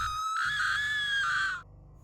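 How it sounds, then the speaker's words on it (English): A woman's blood-curdling scream rings out loud and sustained for over a second, a high piercing cry over low rumbling background, cutting off abruptly. "we both hear the blood-curdling scream of Samantha."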